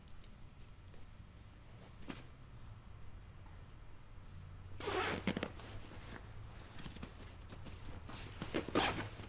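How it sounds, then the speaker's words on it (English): Zipper on a panel of an Eberlestock Skycrane II backpack being zipped shut around mounted accessories, two bursts of rasping zip strokes, one near the middle and another toward the end, close and alone over faint room noise. "it will wrap over the accessories that we have mounted there and zip to itself"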